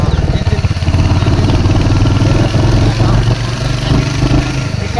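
A motorbike engine starts and runs with a loud, steady chugging idle, its rhythmic thump continuous for the whole stretch, with people talking over it.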